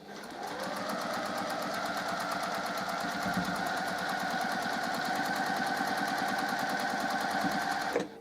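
A sewing machine stitches quilt block seams for a Birds in the Air block, a steady fast mechanical whirring hum running nearly eight seconds before stopping abruptly.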